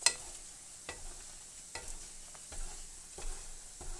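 Food sizzles in a badly scratched frying pan while a utensil stirs and scrapes it, giving a steady frying hiss broken by sharp irregular scraping clicks, close up and with no talking.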